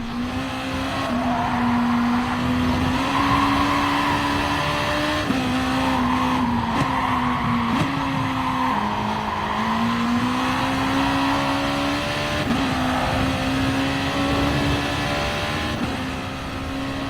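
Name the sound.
Honda NSX race car driving in video game Gran Turismo Sport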